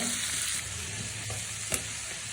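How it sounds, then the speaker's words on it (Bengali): Shrimp frying in oil in a wok, a steady, fairly quiet sizzle and crackle with a brief utensil knock near the end. "আর এখন হচ্ছে চিংড়ি মাছগুলো ভেজে নিব"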